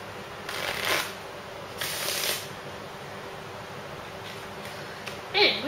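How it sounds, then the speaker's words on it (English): A deck of playing cards is riffle-shuffled twice, each shuffle a short, crisp fluttering burst, followed by a few soft card taps, close and quiet. "So for this trick, we do shuffle pack playing cards."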